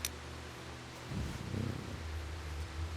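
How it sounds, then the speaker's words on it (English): Soft, low purring from a cat in the video game Stray, a faint rumbling texture that swells slightly partway through and continues steadily, heard alone. "That is a gorgeous cat."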